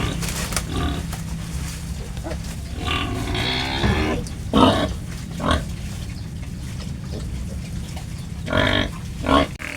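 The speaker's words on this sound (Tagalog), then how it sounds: "dito sa inahin nating baboy na si Bernadette." A nursing sow grunts in bursts, loud and close, while her piglets suckle. The calls come in irregular clusters over a steady low background noise.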